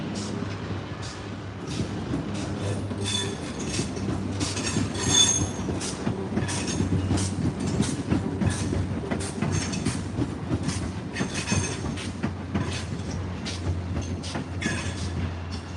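An Adelaide Metro suburban train pulls away toward Gawler Central, a steady rumble of wheels on rail with rhythmic clicks and occasional squeals, moderately distant and continuous throughout.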